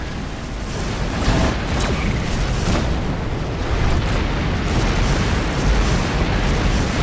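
Incoming missiles detonate during a destroyer battle in the space combat game Rebel Galaxy, a loud, dense wall of rumbling booms with sharp bursts layered throughout, sustained without a break and with no voices.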